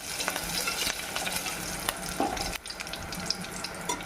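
Mustard seeds, chana dal, dried red chillies and curry leaves sizzle in hot oil for a drumstick lentil stew, with a constant close frying hiss broken by soft stirring scrapes and clicks.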